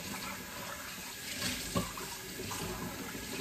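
Kitchen tap water runs steadily into a sink during washing up, with a soft continuous splash and a few small clinks, fairly quiet and with no talking.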